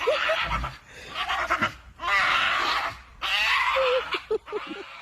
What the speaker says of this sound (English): I think it's a screaming pug